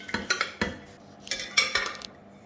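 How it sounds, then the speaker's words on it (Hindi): Cooked bottle gourd and tomato sabzi being served into a dish, a series of sharp close clinks and scrapes of a utensil against the pot and plate in an irregular rhythm. "now I am plating it in the serving dish"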